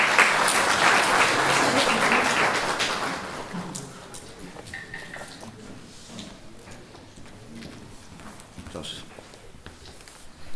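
A crowd applauds at a local election convention, a loud dense clapping that fades after a few seconds into scattered claps and room noise.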